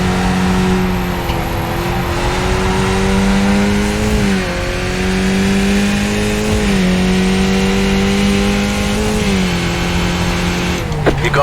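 A race car in the OCRP Skippy race in Japan revs loudly and continuously, its engine note climbing and dropping with repeated gear shifts, with faint voices underneath.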